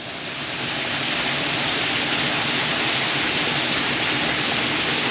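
Garden waterfalls at Robin Hill on the Isle of Wight, flowing on either side of a temple-like pavilion, make a steady, loud, close rushing hiss that stays even throughout with no speech.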